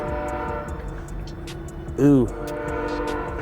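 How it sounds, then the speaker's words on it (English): A train horn sounds once, briefly and from a distance, over steady low rail rumble in a workshop setting, with a man's short exclamation nearby. "By golly, frickin' trains."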